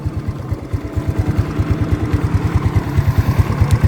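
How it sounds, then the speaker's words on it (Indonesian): A Yamaha Mio Sporty scooter engine idling up close: a steady, loud, low chugging pulse with an even rapid beat throughout, no voices. "suara mesin dari Yamaha Mio Sporty"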